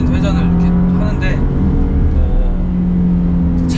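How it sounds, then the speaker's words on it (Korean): A Porsche Panamera 4S engine revs in manual mode via paddle shifters, producing a loud, steady, deep rumbling drone inside the car while someone talks over it. "패들 시프트를 통해서 지금 제가 RPM을 이렇게 올렸는데요"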